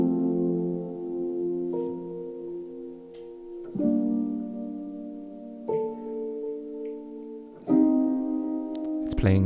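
Synth keys, first keys layered with pads and likely played on an Elektron device, step through sustained chords, changing every couple of seconds with soft attacks and ringing harmonic tones, ending in a brief louder burst.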